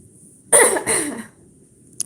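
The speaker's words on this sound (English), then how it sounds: "Oh, I'm gonna need to cough." A single close, throaty cough in two quick bursts, followed by quiet and a faint click.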